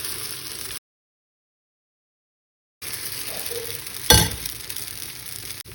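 Paniyaram batter is poured into an oiled, heated kuzhi paniyaram pan and sizzles close by, a steady hiss broken by a stretch of silence, then a single sharp clink of metal before the frying resumes, with no voices.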